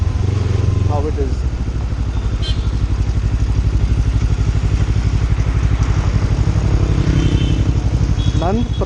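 A Kawasaki Ninja 300 motorcycle ridden in the evening, its engine a steady close throbbing drone throughout, briefly revving higher near the start and again at the very end.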